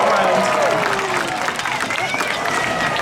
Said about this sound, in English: Remember, we need a massive cheer when he gets to the end